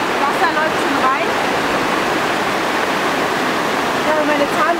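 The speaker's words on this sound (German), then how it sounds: "Wasser läuft schon rein." Water gushes steadily into a bathroom basin in an alpine club mountain hut, a loud, continuous rushing close by, with brief voices murmuring over it.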